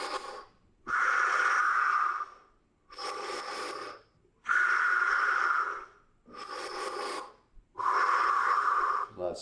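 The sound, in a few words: deep rhythmic breathing during a breathing exercise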